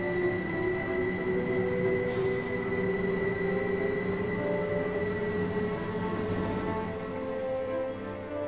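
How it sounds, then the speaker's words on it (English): A train running between Gillingham and Chatham in Kent, heard from on board as a steady rumbling drone with sustained tonal whine, even and unbroken throughout without talk. "I'll be taking the train to one stop at Chatham."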